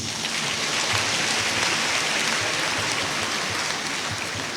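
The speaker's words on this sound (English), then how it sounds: "Please, a round of applause for the 3 officers." Audience at a Nigerian Defence Academy cadet commissioning ceremony applauds three newly commissioned officers, with steady dense clapping throughout at even loudness, sounding like rain.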